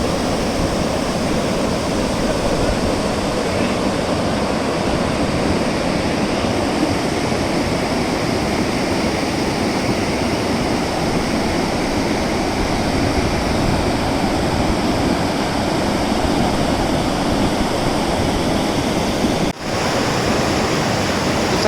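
Floodwater after a cloudburst at Nandanagar Ghat, Chamoli, roars in a dense, unbroken rush for over twenty seconds, loud and close, with no voices.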